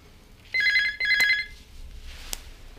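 A telephone rings indoors in two clear bursts with a short gap, fairly loud and close, then a fainter tail of room noise; no one speaks during the ringing.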